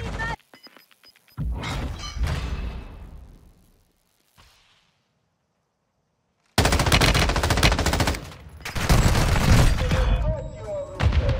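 Gunfire in a Modern Warfare II Warzone 2 firefight: bursts of rapid automatic shots, a rattling cluster early on, then a silent gap followed by long, loud sustained volleys with thuds and impacts.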